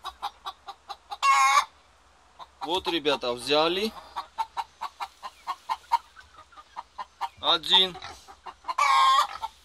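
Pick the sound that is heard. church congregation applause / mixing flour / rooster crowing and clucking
rooster crowing and clucking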